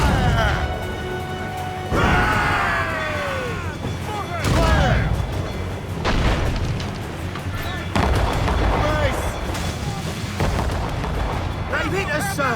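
Cannon shots hammer a sailing ship in Assassin's Creed Rogue, a series of loud booming blasts a couple of seconds apart amid crashing impacts, with shouted crew voices in between.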